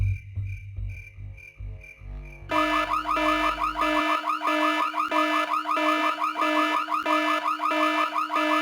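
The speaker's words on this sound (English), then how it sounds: "Well, who set off the alarm, Floyd?" A car alarm in the Full Throttle video game wails with a steady, repeating electronic warble that starts abruptly partway through. It stays loud and continuous over low game rumble.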